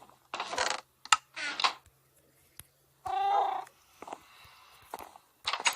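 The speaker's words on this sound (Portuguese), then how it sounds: "Olha, tem um gatinho aqui." Several short cat meows from a video game come in scattered bursts, one long and wavering, with light clicks and taps between them.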